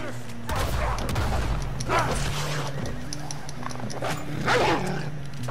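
Wolves attacking in the video game Red Dead Redemption 2, heard as snarling and yelping bursts amid gunfire-like impacts, with a steady low game soundtrack hum underneath throughout.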